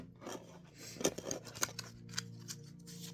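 A deck of oracle cards is cut and handled by hand, giving soft papery rubs and a few crisp snaps. The sounds are quiet and close, with no talk.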